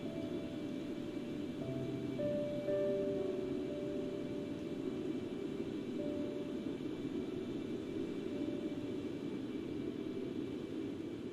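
A Concorde in cruise climb in the X-Plane 11 simulator, with a steady broadband engine roar and hiss that holds even throughout, plus faint tonal cockpit hums and no talking.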